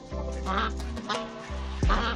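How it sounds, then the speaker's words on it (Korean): A white duck quacks repeatedly in short, nasal bursts near a chicken coop, fairly close, with a low steady hum underneath. "흰오리는 당황한 듯 꾀꾀거리기 시작한다"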